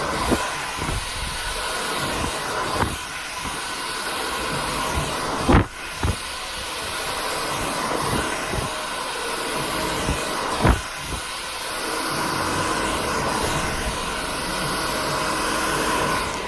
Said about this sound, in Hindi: ये लोग रिपीटेडली 5-6-7 बार कोम कर करके ड्राई करते हैं